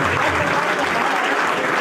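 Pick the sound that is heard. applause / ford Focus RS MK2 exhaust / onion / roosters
applause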